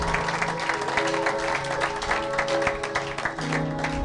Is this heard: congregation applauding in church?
yes